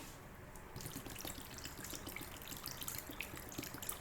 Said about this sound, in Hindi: उसके बाद फिर हम इसमें 3 गिलास के जितना हमने इसमें पानी ऐड किया।